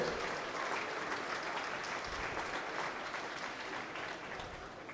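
Audience in a gym applauding at a girls' high school basketball all-star game, a dense sustained round of clapping that stays even and slowly tapers near the end, with no voices standing out.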